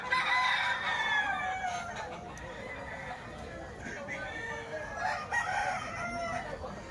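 Chickens and roosters crowing and clucking outdoors in the rain, overlapping calls under steady rain noise.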